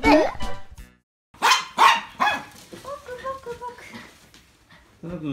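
Dogs in a busy household of nine dogs and cats give several sharp, close barks in quick bursts, followed by high whining yips, with a brief pause between bursts.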